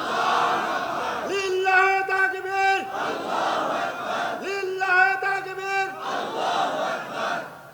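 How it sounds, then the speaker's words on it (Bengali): A large crowd at an outdoor religious sermon gathering in Phulbaria, Mymensingh, shouts the takbir in unison, with two long, loud, drawn-out chants separated by crowd murmur. "এটা হলো আসল তকবীর"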